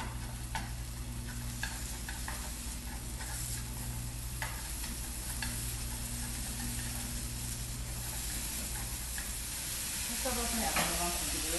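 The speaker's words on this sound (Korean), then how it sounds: "채썰어서 양념한 고기를 볶아주시고요" Julienned seasoned beef is stir-fried in a pan with a soft, steady sizzle and occasional scraping stirs, heard quietly over a low hum that fades near the end.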